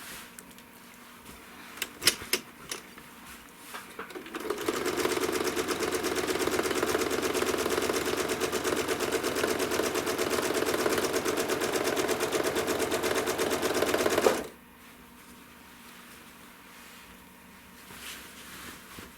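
Sewing machine stitching through a quilt in the ditch, running steadily and moderately close for about ten seconds in a fast rapid stitch rhythm, with quieter handling clicks before and after and no talk.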